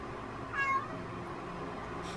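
A cat gives one brief, clear meow at moderate distance over a low steady background hum.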